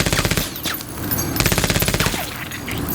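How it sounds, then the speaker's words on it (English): Rapid chain gun fire in the video game Menace, a loud, continuous stream of evenly spaced shots with a brief lull near the middle before the burst resumes. "regular chain gun"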